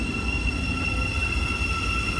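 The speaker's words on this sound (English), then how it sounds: "There goes our train off to Peterborough on the East Coast Main Line." A Thameslink train departs along the East Coast Main Line toward Peterborough with a loud, steady rolling rumble and sustained high whining tones.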